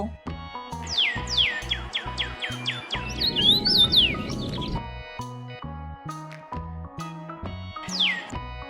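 Quick, bright bulbul chirps sweep downward in a rapid series over a steady rhythmic tonal backdrop, with a louder burst of chirping midway.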